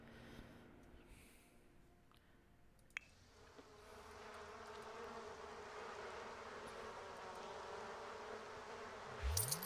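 Bees buzz steadily at a bee box in The Sims 4, a soft continuous drone that swells slightly louder in the second half, with no talk over it.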